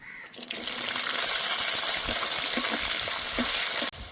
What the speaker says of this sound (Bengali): এবার বিনসগুলো ভেজে নেব।